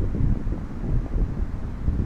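Strong gale wind roars and buffets the microphone in a low, gusty rumble during an FPV drone flight, steady and loud with no voices.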